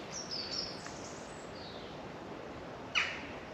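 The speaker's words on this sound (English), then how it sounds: "listening to the birds, being in the woodland" Birds call in woodland at sunrise, with a few thin, high chirps and one brief sharp call, heard faintly at a distance over a steady background hiss.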